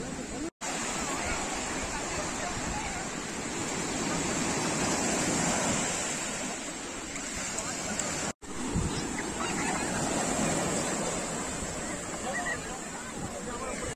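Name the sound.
sea waves on a beach near Puducherry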